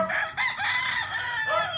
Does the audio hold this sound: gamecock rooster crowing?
yes